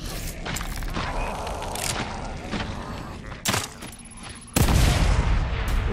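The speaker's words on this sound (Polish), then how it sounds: "Nie wiem, czy sobie bełtu wybuchowego nie wykorzystać tutaj." An explosive crossbow bolt detonating among a group of enemies in the horror game The Evil Within 2, sharp bursts and heavy thumping impacts over a continuous loud game soundscape, ending in a big booming blast.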